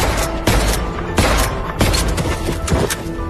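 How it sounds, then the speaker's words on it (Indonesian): Gunfire from a pistol fired blindly by someone crouched on the ground in a film scene, several loud booming shots spaced irregularly over reverberant noise. "merunduk ke tanah dan menembak secara membabi buta"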